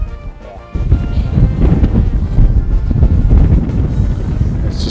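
Strong wind gusts across a golf course, loud buffeting and roaring against the microphone, rising abruptly after a quieter second and staying heavy throughout, with no speech over it.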